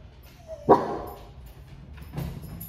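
Indoor dog barks at another dog seen outside: one sharp, fairly close bark followed by a softer second bark, set against low room noise.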